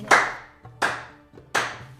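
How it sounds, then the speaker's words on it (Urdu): Three sharp single hand claps ring out at a steady pace, each followed by a short room decay, over near silence. "اس نے تالی بجائی"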